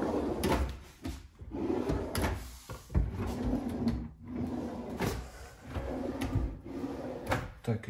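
Kitchen drawers with Hettich runners in a Leroy Merlin kitchen sliding open and shut, repeated rolling glides and soft thuds at close range, several in sequence.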